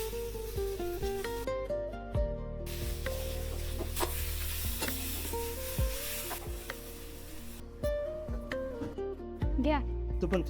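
Oil with cumin, crushed garlic, onion, chilli powder, turmeric and house spice mix frying for a wildflower vegetable dish; steady sizzling and stirring runs throughout beneath music and voices.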